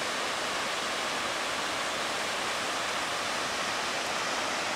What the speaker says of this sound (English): Get a nice view of this little waterfall from the trail.